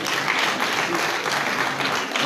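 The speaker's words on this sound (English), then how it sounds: "Clap for Samuel Fakoli." Audience applause at a youth empowerment graduation ceremony in Liberia, a steady wash of many hands clapping at moderate volume, continuous across the short stretch.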